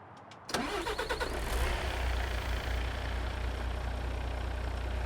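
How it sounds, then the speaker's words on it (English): A Ford F-MAX truck engine cranks and fires up in Euro Truck Simulator 2, a short starter whir followed by a sudden catch, then settling into a steady low purring idle that stays loud and close. "Now, it sounds like a nice purring engine."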